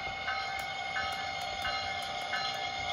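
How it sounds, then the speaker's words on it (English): Bachmann Siemens Charger HO scale model locomotive running with digital sound, a steady electronic engine drone with repeated short clicks and tones, close and even, no talking. "We're gonna go ahead and give this locomotive some speed."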